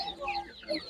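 A Master Grey breed chicken at an animal market gives a few short, soft clucks up close, quick and quiet.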